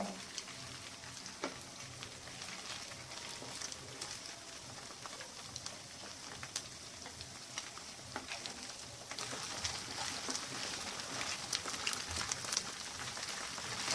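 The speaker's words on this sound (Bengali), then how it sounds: "একটু লাল লাল করে ভেজে নেব, খুব বেশি কড়া ভাজবো না, এইভাবে হালকা লাল করেই ভেজে নেব।" Cubes of paneer shallow-frying in hot oil in a pan for chilli paneer, a continuous soft sizzle and crackle like light rain, growing slightly louder toward the end, with no talking.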